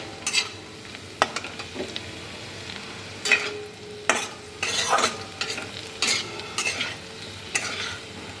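Paneer frying in ghee in a pan, a soft continuous sizzle broken by repeated bursts of spoon scraping and stirring, roughly eight irregular strokes, close by with no voices.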